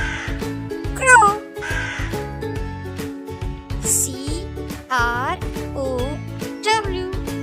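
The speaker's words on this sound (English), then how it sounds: "Crow." A crow caws in several harsh, close calls, interspersed with other bird cries and a bright chirp, and no talking.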